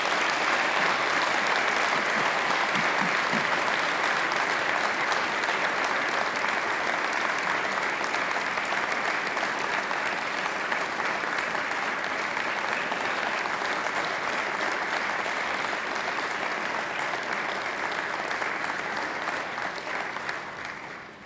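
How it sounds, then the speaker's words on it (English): Long, sustained applause from graduates at a Macquarie University graduation ceremony, turned to face their families and friends, a broad even wash of many clapping hands lasting over twenty seconds before trailing off. "I invite you to give them a mighty round of applause"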